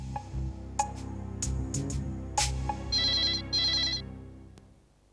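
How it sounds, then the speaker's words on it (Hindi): A telephone rings while someone is being called: a mix of chiming electronic tones and short bursts, then two sustained high buzzing rings that fade into quiet, heard alone without speech. "मैं उसको फोन करता हूँ, ट्राई करता हूँ"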